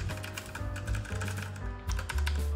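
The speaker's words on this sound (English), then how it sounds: "I don't have any preference yet of what type of sound for my mechanical keyboard" A budget E-Yooso Z11 mechanical keyboard is typed on at a steady, rapid pace, with close, clicky keystrokes running continuously and no talking.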